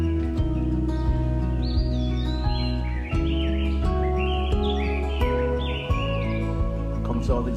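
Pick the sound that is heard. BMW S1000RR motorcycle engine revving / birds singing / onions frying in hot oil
birds singing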